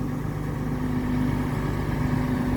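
A CAT 323 excavator's diesel engine runs under heavy work in hot, dusty dry-season conditions, giving a steady, close, low idling drone with a faint tonal hum and no speech.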